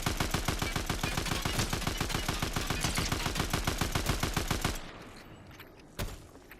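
Fast, evenly spaced automatic gunshots in Fortnite, a long unbroken burst of sharp cracks at close range that stops abruptly, followed by a quieter stretch and one last isolated shot.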